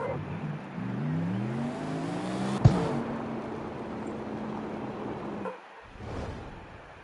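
A car engine revs and shifts through rising gears in the CarX Street racing game, with a sharp thud midway, a steady drone after it, then a sudden drop in sound near the end.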